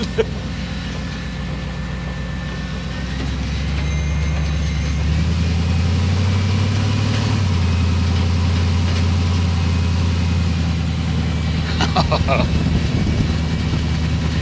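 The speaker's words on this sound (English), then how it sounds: "She's moving, boys. She's actually driving." Low, steady engine drone from an old Chevy COE truck running on bad tires during a test drive, close and continuous, with pitch shifting as it gets moving and a few rattles near the end.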